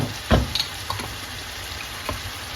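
Minced meat with onions, peppers and ginger sizzles quietly in a pan, a faint steady crackle with a few sharp spoon knocks and scrapes, no voices.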